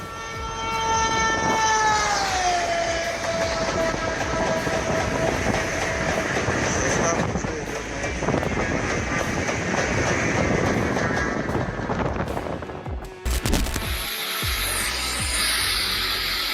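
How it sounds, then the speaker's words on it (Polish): A train rumbles steadily along the rails during a brake system test, with continuous wheel noise and squealing tones, then a sharp clatter and shift in sound near the end. "nagrania z testów systemu hamulcowego pociągu"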